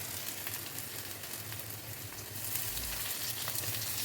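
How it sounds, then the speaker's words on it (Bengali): Prawns frying with potatoes in a pan, a continuous close sizzle that hisses steadily and grows slightly louder toward the end, with occasional stirring. "চিংড়ি মাছ আলু দিয়ে ভাজছি।"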